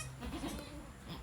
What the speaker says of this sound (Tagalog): Ito yung dalawang bagong panganak na kambing.